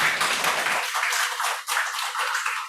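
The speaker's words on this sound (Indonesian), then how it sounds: "mari kita beri tepuk tangan yang meriah dulu dong untuk Bapak Makbul" Applause for a host at an online Zoom gathering, a bright steady crackle of clapping heard through a compressed call connection, continuing evenly for nearly three seconds with a slight dip midway.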